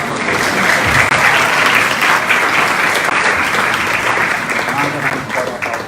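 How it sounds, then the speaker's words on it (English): An audience claps loudly at an initiation ceremony, a dense, steady burst of applause that carries on for several seconds without letting up. "Give him a big round of applause."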